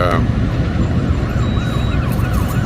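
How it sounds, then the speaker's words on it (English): Rapid warbling ambulance siren cycling over and over above heavy engine and road noise, fairly loud and close. "there's an ambulance and stuff over there."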